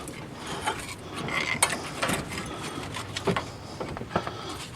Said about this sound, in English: I'm going to take the caliper off.